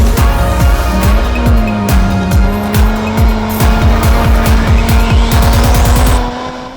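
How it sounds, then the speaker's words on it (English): A 2022 Honda Civic Hatchback with the 1.5T engine and six-speed manual is driven on a winding road, its engine note rising and falling as the tires squeal sharply in quick repeated bursts, loud and close, then fading out. "let's drive this guy and see if it's any fun."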